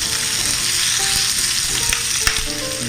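Ingredients sizzle and fry in a hot pan, shallots and aromatics for a Chinese oyster casserole, a steady close crackling with small pops and a faint stir or clink near the end.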